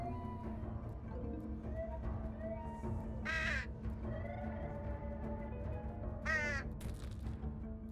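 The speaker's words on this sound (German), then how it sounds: "Das ist aber ein mutiger Rabe." A raven gives two harsh caws a few seconds apart over a steady low rumble of background noise, moderately distant.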